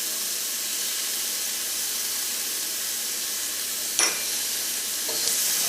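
Tomatoes hit hot spiced oil for a Kerala-style spicy chicken curry, giving a steady close sizzle and hiss with a brief sharp clatter of stirring near the end.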